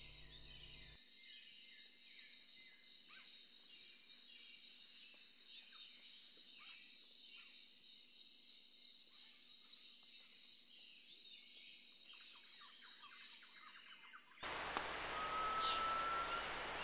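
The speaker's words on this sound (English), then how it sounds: "I was seeing a black-throated sunbird for the first time" A black-throated sunbird in the Himalayas near Lava, Kalimpong, sings repeated thin, high chirps in quick bursts. The bird is close and clear against near silence, and a burst of rustling noise cuts in at the end.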